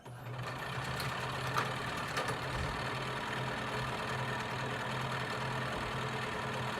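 A sewing machine stitching elastic into a fabric face mask gives a steady mechanical hum with a low buzzing drone, running continuously at moderate volume.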